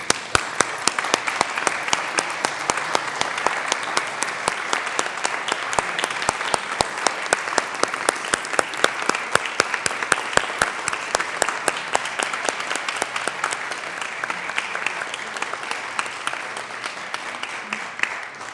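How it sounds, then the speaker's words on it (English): A packed Colorado Senate chamber breaks into sustained, even applause from many hands, a dense crowd of claps that holds steady for the whole stretch. "let us first applaud your efforts"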